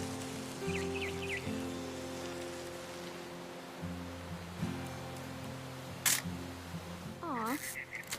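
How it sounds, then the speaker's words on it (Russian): An old camera in the video game What Remains of Edith Finch snaps pictures in cold weather: two sharp shutter clicks near the end, over a soft rain-like hiss and sustained low musical tones. "I'm gonna take some pictures"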